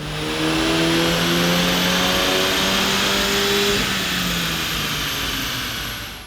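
A modified VW Golf Mk8 GTI engine roars at high revs on a dyno, loud and sustained, its tone rising and wavering before gradually easing off.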